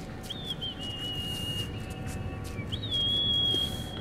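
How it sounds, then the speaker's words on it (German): A character whistles in the video game Metro Last Light, two sustained tonal whistle phrases that each rise sharply and then hold steady, set against a quiet ambient game backdrop with faint clicking noises. "Er glaubt, er kann pfeifen."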